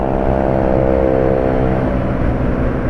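A loud, rumbling motorcycle engine with a throaty racing exhaust drones steadily, close by, its pitch sliding slightly lower toward the end.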